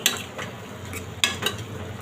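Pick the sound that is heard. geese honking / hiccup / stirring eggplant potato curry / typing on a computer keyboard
stirring eggplant potato curry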